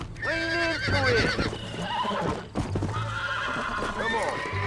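A horse in the Red Dead Redemption video game whinnies loudly twice, with clip-clopping hooves between the calls and voices talking over the action.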